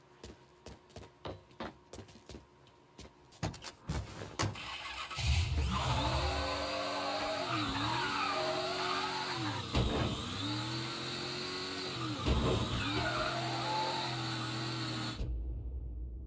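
A car in Mafia 3 rattles through a few ignition cranks, then the engine catches and runs steadily, revving and rising and falling in pitch as it drives off before cutting out abruptly, loud and close, with no talk.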